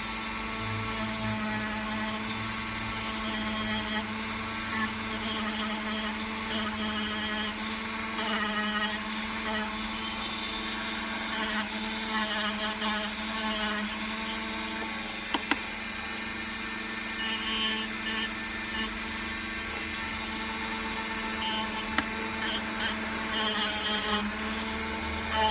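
A rotary tool grinds welds off a silver buckle ring with a sustained high-pitched whine, swelling and easing in repeated bursts as it bites the metal.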